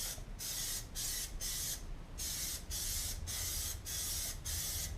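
Plasti Dip sprays onto a wheel rim in a light coat, coming as a series of short, steady aerosol hisses with brief gaps between them, close and alone.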